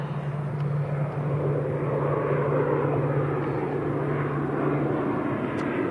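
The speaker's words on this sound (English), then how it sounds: "Little ATR. Yep, Aer Lingus back to Belfast." An Aer Lingus ATR turboprop departs Manchester Airport for Belfast, a steady broadband engine and propeller roar with a constant low drone, heard from a distance.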